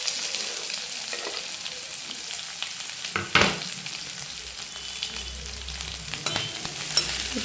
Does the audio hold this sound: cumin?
yes